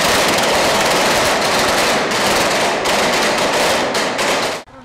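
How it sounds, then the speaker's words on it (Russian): Pyrotechnic gunfire and explosions during a staged assault on a residential building by special police forces, loud rapid bursts of shots and blasts crowding together close by, continuing almost without pause before cutting off. "выстрелы и взрывы – всего лишь работа пиротехников"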